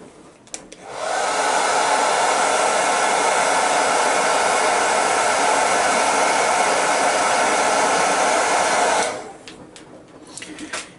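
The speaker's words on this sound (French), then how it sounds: "Donc, je vais sécher au sèche-cheveux." A hair dryer drying paint switches on and blows with a loud, steady whirring roar for about eight seconds before shutting off.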